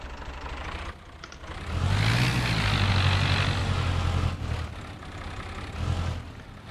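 A tractor engine runs in Farming Simulator 22, a mid-pitched drone that swells into a louder steady rumble, eases, then rises briefly again, with no talk.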